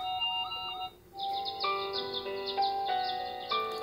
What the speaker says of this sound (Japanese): チュンチュン声にピアノ曲。